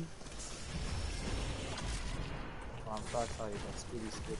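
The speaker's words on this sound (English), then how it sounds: "where's the gunshots coming from? I hear it" Gunfire in a video game crackles in rapid bursts of sharp shots over a busy, noisy background at fairly low level, with a voice speaking briefly near the end.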